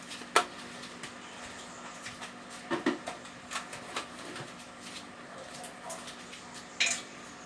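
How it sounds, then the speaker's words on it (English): Dry parsley is stirred into curry lentils and peas in a pot, with faint scattered scrapes and light clinks of a spoon at an uneven pace in a quiet kitchen. "Let me just stir that in, my dry parsley"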